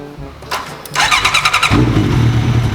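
A Yamaha R1 four-cylinder motorcycle, parked for a long time, cranks briefly and then fires up, settling into a loud, close, rough idle.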